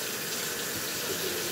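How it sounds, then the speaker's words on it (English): Water tap running steadily as something is rinsed off under it, a close, even hiss and splash with no talk. "Rinse that off."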